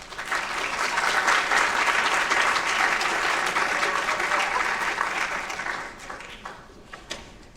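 Sustained applause from a conference audience welcoming a speaker at an event on borderline personality disorder, steady and full for several seconds before thinning out near the end.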